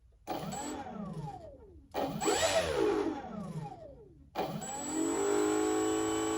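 An electric motor on a model J-3 Navy Cub spins up three times in separate bursts, each a rising whine that sweeps up in pitch and then falls away, with the last run holding a steady high tone.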